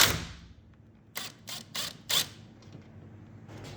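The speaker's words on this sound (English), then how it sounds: "now we're going to take out the strut tower nuts" Strut tower nuts being loosened on a 2017 Kia Soul front suspension: a few close, rhythmic mechanical ratcheting clicks in a short burst against a quiet garage background.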